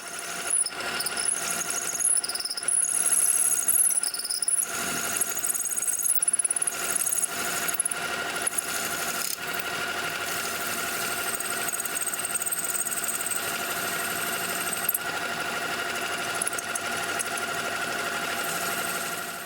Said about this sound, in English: I first drill just under the final size.